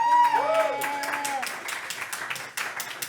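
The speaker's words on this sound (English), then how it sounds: "They all clapped, except maybe that one guy." Applause from a live podcast audience breaks out for a producer, a spread of quick hand claps rising and thinning out over a few seconds, with a voice speaking over the start.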